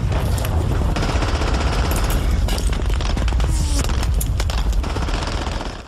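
Machine gun fire from a nest behind sandbags overlooking the front in a Saving Private Ryan battle scene, a loud, dense continuous barrage of rapid bursts and booms with no pauses.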